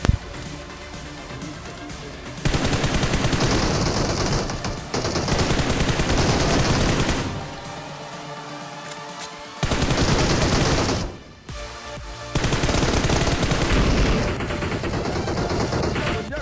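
Bursts of rapid automatic gunfire in PUBG Mobile as two enemies are killed, several loud, close volleys of machine-gun fire separated by brief pauses, with speech at moments.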